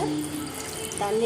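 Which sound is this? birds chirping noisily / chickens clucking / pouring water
pouring water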